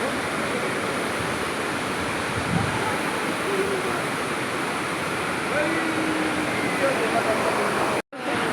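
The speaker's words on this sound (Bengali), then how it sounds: "একমাত্র নদীরই আওয়াজ হচ্ছে এখানে। নদী কলকল করছে" A river in Bhutan rushing and babbling, a dense, continuous broadband wash of flowing water heard close and steady throughout, with no other sounds standing out.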